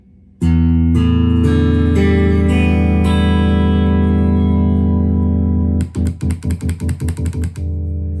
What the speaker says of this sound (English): the next step is actually playing the guitar